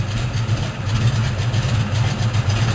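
A de Havilland Beaver DHC-2 aircraft's radial engine idles with a steady, low throbbing rumble that holds close and even, with no voices.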